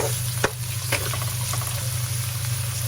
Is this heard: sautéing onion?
yes